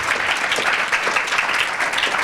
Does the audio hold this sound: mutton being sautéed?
no